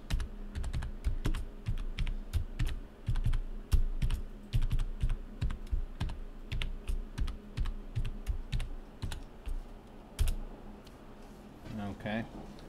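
Rapid keystrokes rattle on a computer keyboard as a long passphrase is entered during a Debian Linux install with full-disk encryption; the clicks are close, steady and continuous, with a brief pause near the end.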